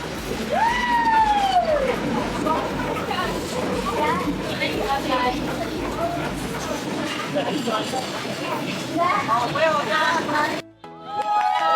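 A police siren rises and falls briefly in the distance amid a busy street scene in Hanoi, Vietnam, with crowd chatter and people talking nearby.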